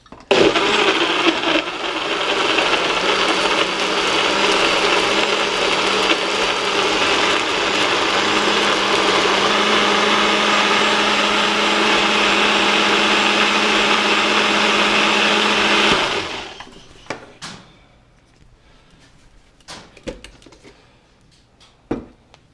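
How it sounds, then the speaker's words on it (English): A blender chopping food whirs loudly and steadily for about sixteen seconds, then cuts off, leaving a few light clicks and knocks. "everything's in the blender now. Let's get it chopped."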